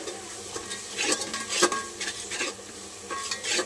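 Onion masala with turmeric and salt stirred in a pan: repeated close scraping and knocking strokes of a spoon over a low sizzle, brisk and uneven, with no voices.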